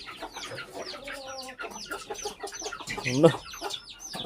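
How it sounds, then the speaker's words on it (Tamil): Guinea fowl and their chicks cluck in a farmyard enclosure, a close, busy run of clucks and chirps with a louder call near the end, while a person talks over them. "இந்த கிண்ணி கோழியே பயந்துக்கிட்டு உள்ள வர உட்காந்துருக்கு"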